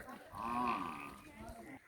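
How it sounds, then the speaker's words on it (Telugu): Buffaloes at a family home in a village give a single drawn-out low call, faint and somewhat distant, amid soft background noise. "వాళ్ళ బర్రెలు చూడండి"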